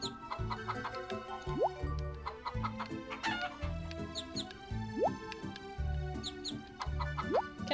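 Chickens cluck on the farm in Harvest Moon: Save the Homeland, with repeated chirpy calls and rising squeaks over bouncy looping background music.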